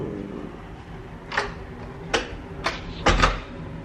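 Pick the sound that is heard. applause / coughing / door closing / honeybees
door closing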